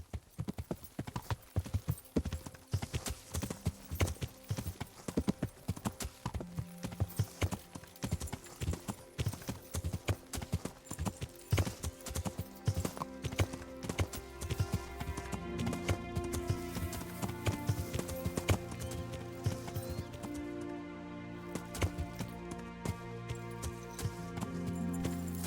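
Horse hooves gallop in a steady rapid clip-clop rhythm through the Kingdom Come: Deliverance video game, loud and continuous, with an occasional whinny and game music underneath.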